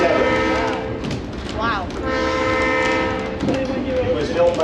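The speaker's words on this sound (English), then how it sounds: "our train today is being pulled by a diesel-electric locomotive, number 8218, which was built in 1957." A 1957 General Motors diesel-electric locomotive, built in London, Ontario for the Canadian Pacific, hauls a heritage passenger train with a steady loud engine rumble and rolling wagons, while a long sustained horn blast sounds; a voice briefly exclaims.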